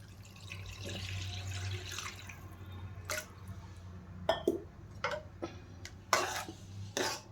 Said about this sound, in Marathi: आता यामध्ये पाणी टाकून घेणार आहे थोडं.